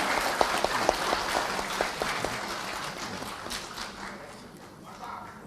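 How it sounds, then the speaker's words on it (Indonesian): A crowd applauds at a formal gathering of a notaries' association. Dense, continuous clapping runs throughout, with a few sharper rhythmic claps near the start, and it slowly softens toward the end. "Luar biasa, tepuk tangan."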